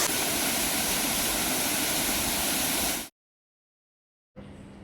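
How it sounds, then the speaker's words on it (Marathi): A waterfall on a trek up a steep climb to Panhalgad pours in a loud, steady broadband roar for about three seconds, then cuts to silence before a fainter rush of water returns. "इथं आम्हाला तुम्हाला दाखवतो हा धबधबा प्रवाहित झालेला दिसतो."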